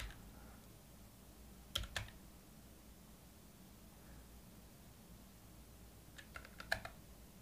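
Keys on a computer keyboard tapped in two short, faint bursts of a few clicks each, separated by a quiet stretch of low background hiss, with no talking.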